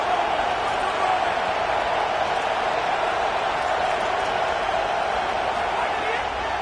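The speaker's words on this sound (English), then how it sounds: "Decibels rising as the crowd gets behind this defense on 3rd down." A college football stadium crowd roars behind the home defense on third down, a dense, steady wall of cheering that holds at full volume throughout without letting up.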